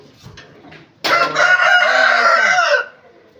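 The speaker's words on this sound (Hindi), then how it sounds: "ये देखें सारे पिंजरे भरे हुए मुर्गों से" Roosters crowing loudly together, with some clucking, from birds packed in cages on a rooftop; a burst of overlapping crows runs for about two seconds after faint background sound.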